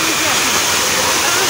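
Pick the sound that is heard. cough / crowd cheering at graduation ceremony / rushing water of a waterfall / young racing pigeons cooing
rushing water of a waterfall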